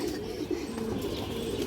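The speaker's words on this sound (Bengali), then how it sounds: "এটা একটা সিলভার বাগা নর, 2 হাত সাইজ। এই যে দেখেন, এই যে দেখেন দর্শক বিগ সাইজের কবুতর।" Big two-hand-size silver bagha pigeons, including a male, coo in a low continuous murmur that runs steadily through the whole moment at close range, with no voices over it.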